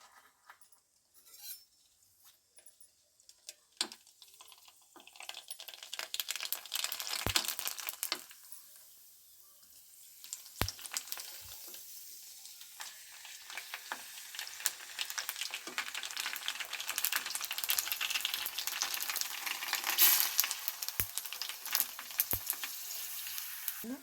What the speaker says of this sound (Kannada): ಇವಾಗ ಎಣ್ಣೆ ಕಾದಿದೆ. ನಾನು ಒಂದೊಂದು ಪುರಿನ ಕರಿತೇನೆ